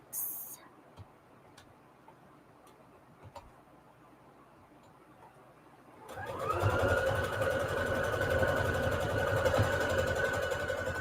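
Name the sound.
sewing machine straight stitching around Peltex fabric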